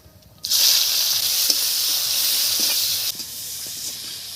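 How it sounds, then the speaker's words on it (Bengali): Onion and black cumin seeds hit hot oil with a sudden loud sizzle that holds as a bright, steady hiss for a few seconds, then drops to a quieter crackle. "এখন দিয়ে দিচ্ছি কালো জিরে ফোড়ন, পেঁয়াজ দিয়ে দিলাম"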